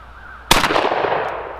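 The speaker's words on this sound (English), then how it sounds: "2 shots, looking right down the rib with the black pigeon set right on top of the triangle." A single sharp, loud blast from a Savage Renegauge competition shotgun fired outdoors at a patterning board, with a short ringing decay afterward.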